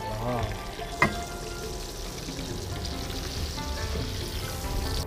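Fish fries in hot oil in a wok for a Liaoning-style dry-braised fish, giving a loud, continuous close sizzle with one sharp clack early on and no clear talk.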